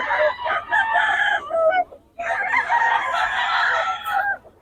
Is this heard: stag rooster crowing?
yes